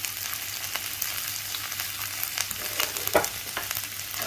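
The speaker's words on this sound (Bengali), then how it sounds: "এই মাংসের তেলেই চুলার কড়াইয়ের মধ্যে আমি কেটে রাখা রসুন এবং আদা কুচিগুলোকে একসাথে দিয়ে দিচ্ছি" Garlic and ginger fry in hot oil with a steady, close crackling sizzle, broken by a few scrapes of a utensil against the pan.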